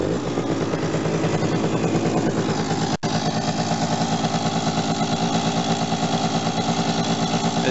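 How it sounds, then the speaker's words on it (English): A 1997 Suzuki AP50 scooter, kickstarted, idles with a steady, buzzy, pulsing single-cylinder two-stroke drone, close and loud throughout, with no talking. "it starts up okay on the kickstart"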